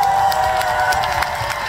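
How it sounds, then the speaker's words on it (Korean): Outdoor temple concert crowd at Wongapsa claps and cheers together, a dense wash of applause with shouts rising over it, steady and fairly loud before easing slightly. "이분들께 박수 한 번만 쳐주세요."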